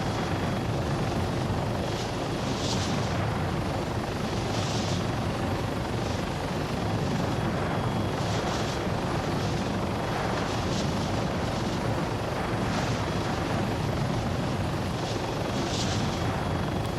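Helicopter flying in the video game ArmA 3, a loud continuous rotor whir and turbine drone with rhythmic blade pulses, alone without talk.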